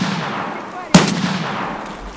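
A single sharp gunshot goes off at mid-distance in the shooter game Escape From Tarkov, standing out from a low ambient rumble.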